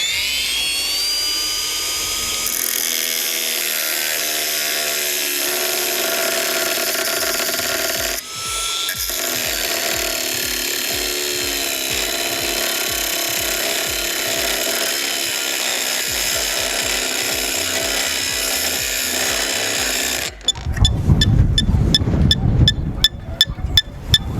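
A Procraft PWA216 cordless brushless angle grinder spins a Titanium 125 mm disc, cutting through a metal piece with a sustained loud whine and grinding rasp; the tone shifts partway through and ends in a harsh, louder burst.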